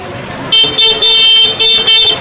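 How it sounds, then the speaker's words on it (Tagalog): Busy road traffic in Burautan on a Sunday, with a steady engine rumble and several loud, bright car-horn blasts that come in repeated bursts close by. "Traffic na naman sa Burautan."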